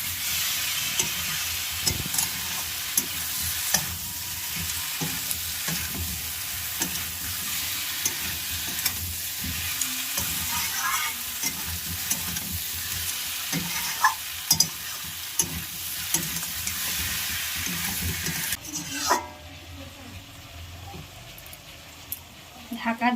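Jackfruit and shrimp curry stir-frying in a pan, a steady close sizzle with intermittent scraping of a spatula, the hiss cutting off sharply near the end as if a lid goes on.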